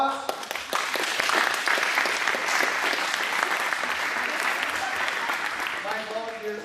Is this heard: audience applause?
yes